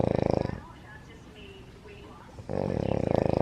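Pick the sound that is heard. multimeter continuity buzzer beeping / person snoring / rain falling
person snoring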